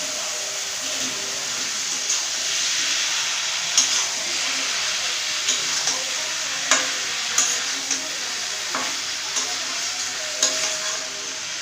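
Boiled potatoes and jackfruit are stir-fried in a tomato spice paste, producing a soft, steady sizzle with light periodic scrapes and taps from stirring, close by and without speech.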